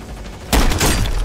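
Gunfire in Call of Duty: Warzone breaking out suddenly after a quiet start, a dense burst of loud shots that continues steadily to the end.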